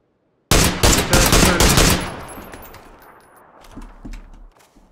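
Rapid automatic gunfire in the video game PUBG, a loud close burst of several shots followed by fading echoes and a few distant pops.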